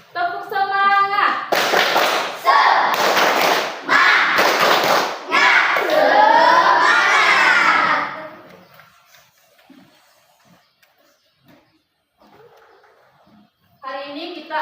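A repeat of the tepuk semangat classroom chant: Indonesian children clap and shout together in loud, rhythmic bursts for about eight seconds. The room then falls nearly silent, apart from faint talk, before a voice returns at the end.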